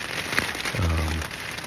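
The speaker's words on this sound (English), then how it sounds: "And you can hear the rain again." Rain falls on a Hyperlite Mountain Gear tent along the Pacific Crest Trail, a soft steady patter and hiss, with a brief low thump partway through.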